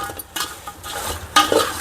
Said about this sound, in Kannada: ಉಪ್ಪು ಹಾಕಿದ ಮೇಲೆ ಚೆನ್ನಾಗಿ ತಿರುಗಿಸಿ ಬಾಡಿಸಿ.